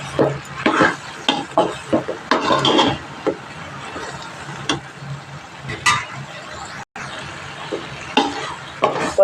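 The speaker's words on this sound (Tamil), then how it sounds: "ஒரு நல்லா கிளறி விட்டுக்குவோம்." A spoon stirs turmeric and coriander powder through a pan while cooking spicy okra kuzhambu, scraping and knocking in uneven strokes with faint sizzling beneath.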